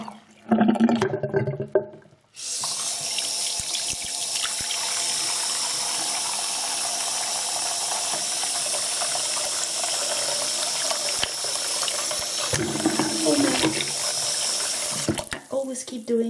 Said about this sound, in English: And I replace the water, as you can see, it's quite dirty.